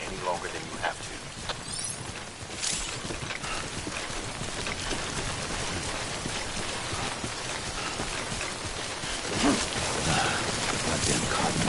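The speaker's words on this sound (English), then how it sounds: "Don't stay out in the rain any longer than you have to." Timefall rain from the video game Death Stranding falls steadily, patters on surfaces and lasts the whole stretch, with faint scattered knocks and clip-clop-like taps heard over the rain.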